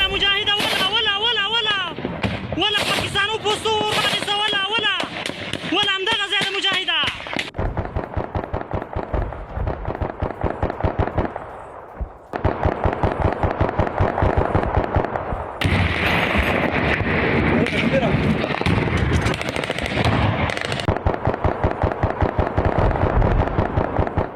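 Rapid gunfire from an attack on a Pakistani border post by Afghan forces, loud dense bursts of cracks that run almost continuously, with a sharper rattling stretch near the middle and voices or music in the opening seconds.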